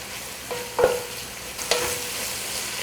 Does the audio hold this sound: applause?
no